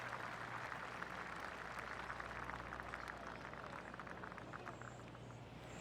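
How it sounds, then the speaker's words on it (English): Polite golf-clap applause from a gallery at a PGA Tour 2K24 round of The Players Championship, a steady soft patter of many hands lasting throughout under a low background hum. "That deserves a golf clap"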